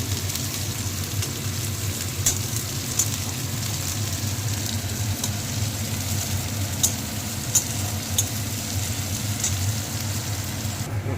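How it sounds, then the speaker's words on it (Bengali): Onions sizzle steadily in a pan of hot oil for an egg curry, a constant close frying hiss dotted with small sharp pops and crackles, with no talking. "পেঁয়াজটাকে ভাজতে হবে লাল করে"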